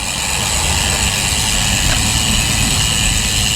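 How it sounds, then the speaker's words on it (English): A tractor works nearby on a roadside beside a bayou, its engine a loud, steady, continuous rumble that holds without a break and with no voices over it. "Tractor's working."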